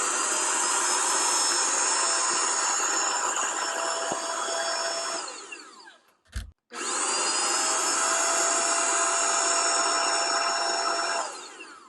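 A GOPUSA portable air compressor inflating an air pillow runs with a loud, steady high-pitched motor whine for about six seconds, cuts out briefly, then starts again and runs steadily.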